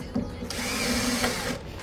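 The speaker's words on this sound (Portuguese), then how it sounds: "Ele continua aqui, segue furando." A power drill runs steadily at close range for nearly two seconds, with a brief spin-up near the start and short dips in pitch as it bores.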